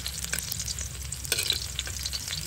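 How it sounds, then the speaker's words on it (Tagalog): Garlic sautéing in a pan, meant to brown before onion goes in, gives a steady close sizzle broken by scraping stir strokes. No voices are heard. "nagigisa muna ako para lumabas yung lasa ng bawang at ng sibuyas"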